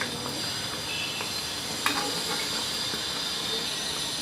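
Malpua frying in hot oil over a medium flame, a continuous hissing sizzle with a brief clatter as it is turned, no talking.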